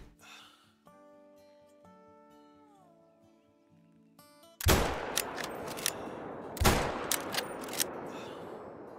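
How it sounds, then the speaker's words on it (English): A .338 Magnum bolt-action rifle shot in the hunting game Call of the Wild: quiet music first, then a sudden loud blast with echoing cracks and a second sharp report a couple of seconds later. "We got the 338 Magnum bolt action rifle."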